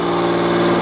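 A power drill bores steadily into a broken stud on an oil housing, giving a constant, loud, close-up motor whine with no pauses and no voices.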